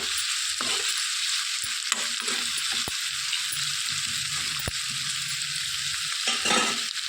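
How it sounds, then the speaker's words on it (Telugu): Onions frying gently on low heat in a pan for a ridge gourd curry, a low steady sizzle with occasional faint clicks and stirring scrapes, close and unaccompanied by speech. "సిమ్లో పెట్టి చక్కగా నిదానంగా వేయించుకోవాలండి ఉల్లిపాయలు కొంచెం రంగు వచ్చే వరకు"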